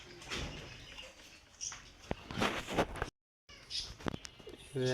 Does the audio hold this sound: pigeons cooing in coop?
yes